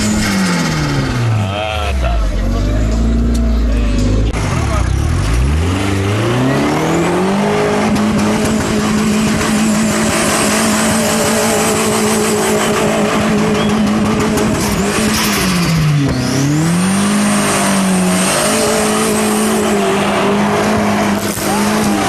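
Jeep engine roaring and revving as it spins in circles, loud and continuous with pitch swooping up and down, tire noise and voices underneath.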